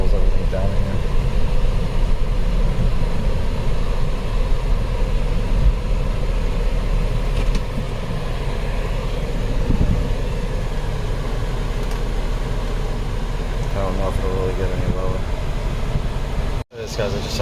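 The 2.7-liter engine of a 2010 Sebring convertible idles with the air conditioning running. A loud, steady hum and blower rush continue unbroken throughout, with a sudden brief dropout near the end.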